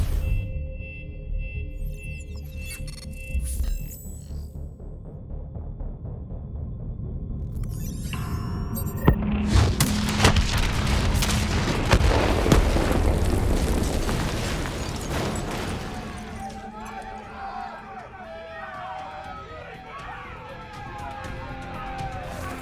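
Detonation explosions in the Call of Duty Black Ops 3 game erupt loud and close, a long rumbling blast with roaring debris that follows electronic tones and then fades into crackling fire and rattling.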